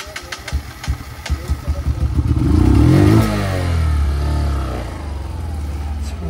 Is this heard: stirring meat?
no